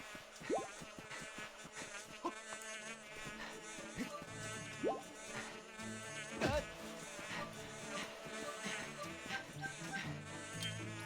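A Mojo wasp buzzes in the video game Zelda Skyward Sword, a thin insect drone mixed under busy game music and effects at moderate volume.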